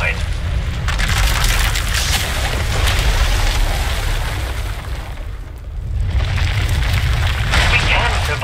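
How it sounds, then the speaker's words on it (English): A runaway power eruption in the video game SWTOR detonates and destroys an asylum: loud, sustained rumbling booms and fiery roaring with a dip in the middle before the blast swells again. "When it erupts, the entire asylum will be destroyed."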